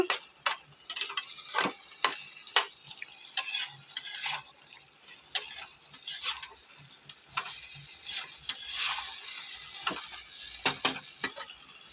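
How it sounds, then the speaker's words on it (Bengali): Vegetables stirred and sautéed in a pan at home, with a soft steady sizzle under repeated sharp taps and scrapes of a spatula against the metal in an uneven rhythm. "এখানে সবজিগুলো ভালো করে একটু কষে নিচ্ছি"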